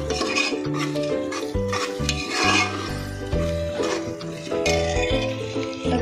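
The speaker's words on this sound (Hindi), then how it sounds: "मिर्ची का पाउडर अपने हिसाब से डालिए और अच्छे से मिक्स कर लेके" A spoon stirs chili powder through a beef heart curry masala in a metal pot, with steady scraping and clinking strokes over a soft sizzle, close and fairly loud with no talk.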